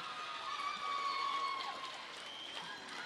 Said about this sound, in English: I don't know if you guys can hear the crowd. It is loud in here.